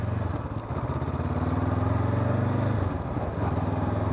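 A motorcycle riding a slalom on a training course, its mid-pitched engine droning steadily nearby as the throttle is held, cut and allowed to run again, with no voices.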